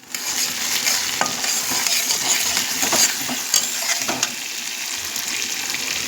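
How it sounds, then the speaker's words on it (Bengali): Chopped tomato and green chilli fry lightly in oil in a pan, a steady crackling sizzle with scattered spatula scrapes and stirring knocks, close up and without talk. "টমেটো কুচি দেব, কাঁচা লঙ্কা দেব, দিয়ে একটু সামান্য হালকা হালকা ভাজবো"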